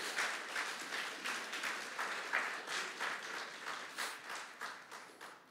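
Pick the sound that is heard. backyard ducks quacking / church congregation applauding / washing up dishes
church congregation applauding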